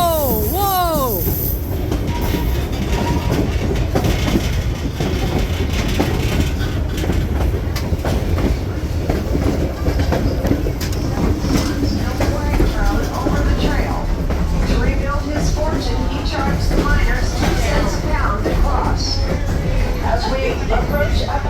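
A Skagway, Alaska sightseeing train rolls along its rails in a loud, continuous rumble with clattering wheels and a brief metallic squeal at the start, heard up close from on board as people talk.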